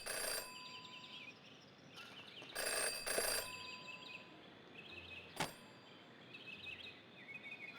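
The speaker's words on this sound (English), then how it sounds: "Jenny had learned never to ignore a ringing phone." A telephone in the detective video game Jenny LeClue rings in short, bright bursts, two close rings and a later sharp tone over a quiet, faint ambient background.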